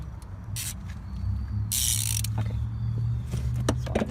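A manual wrench ratchets in short clicking bursts near a car part, fairly quiet with a low hum underneath.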